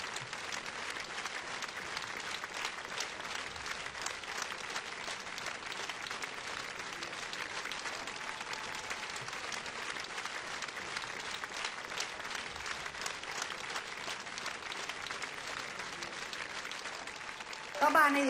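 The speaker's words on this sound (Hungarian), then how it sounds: "egy nagy tapsot kérnék a zenekarnak" A concert audience gives the band a long, sustained round of applause, dense and even throughout, with a brief louder burst at the very end.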